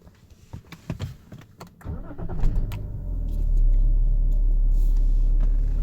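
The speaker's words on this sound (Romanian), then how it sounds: "Dacă vreți, pornim și mașina." A BMW car engine cranks with a few clicks, then catches and settles into a steady, loud low rumble as it idles.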